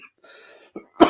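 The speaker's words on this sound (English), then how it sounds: "Why do I always start coughing when I laugh hard?" A person coughing after laughing hard, a faint wheezy breath followed by a short rasp and then one sharp, close, loud cough at the end.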